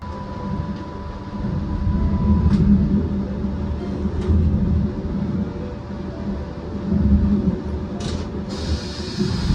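A FrontRunner commuter train departs Ogden in the early morning, heard as a steady low rumble that swells and fades, with a faint tonal whine and a few brief clanks. There is no talking.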